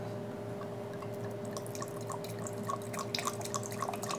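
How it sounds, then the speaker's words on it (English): Wine is poured through an aerator at a wine bar, giving a faint trickling, dripping flow of liquid with small splashes that grow busier toward the end, over a low steady background hum. "So as you're pouring, oxygen's just getting all in that wine, right?"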